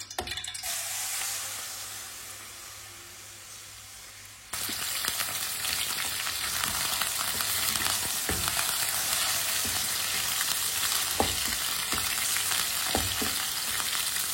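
Small mutton pieces cooking in a pan while a spoon stirs them, a quieter hiss that jumps to a loud, steady sizzle, with scattered scraping clicks of the spoon and no voices.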